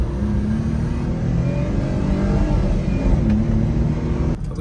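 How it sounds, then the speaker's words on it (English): A car accelerates hard nearby on a road, its engine loud and rising steadily in pitch before a brief drop near the end, with no voices. "Acceleration test."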